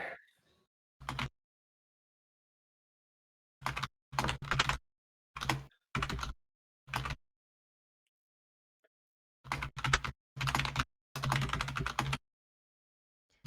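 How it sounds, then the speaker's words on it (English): A clicky computer keyboard being typed on in short, separate bursts of rapid key clacks with quiet gaps between them, close and crisp. "I love clicky clack of keyboards so much"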